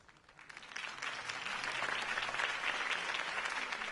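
A crowd applauds after a campaign speech, starting softly and swelling into steady, full clapping that keeps going to the end.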